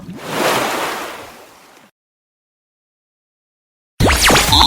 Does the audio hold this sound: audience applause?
no